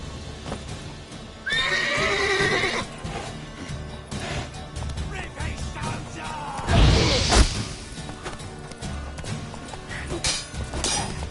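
A horse in The Witcher 3: Wild Hunt lets out a loud, shrill whinny, then hooves and a heavy crashing rush follow amid clattering game noise, with a voice urging it on.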